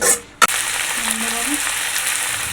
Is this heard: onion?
yes